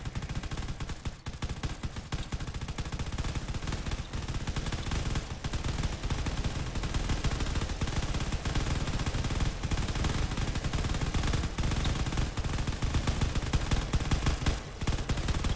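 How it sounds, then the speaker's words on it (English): Beam weapons tear into enemy battleships during a space fleet battle in Drone Wars, a dense, continuous barrage of rapid crackling fire and booming impacts at steady loud intensity throughout. "He's gone within range to his beam weaponry, which is going to tear through these battleships."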